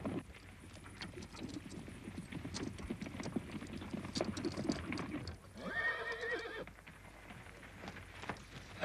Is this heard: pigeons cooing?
no